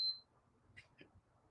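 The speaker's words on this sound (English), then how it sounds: "Oh, there's the alarm." One short, high electronic alarm beep rings at the very start, followed by a quiet room with faint movement.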